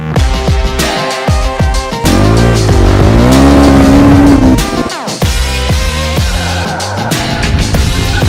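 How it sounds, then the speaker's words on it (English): A motorcycle sliding sideways on pavement while the rider adds throttle to break rear-tire grip, producing a loud, sustained tire squeal over a revving engine, with gear-change breaks and engine pulses before and after the slide. "adding more throttle to lose the grip on the back tire, and you can lean and slide the bike on the floor"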